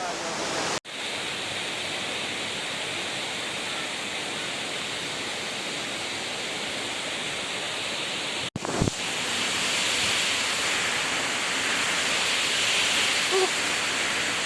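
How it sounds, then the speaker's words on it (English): Waterfall in North Sumatra, Indonesia, a constant dense roar of falling water filling the whole clip, steady and fairly close, briefly interrupted by a couple of sharp handling thumps. "This is the highest waterfall in Indonesia."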